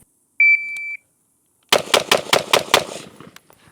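A Sugar Weasel gun by Q fires a rapid string of about six loud, close shots. An electronic beep comes just before the volley.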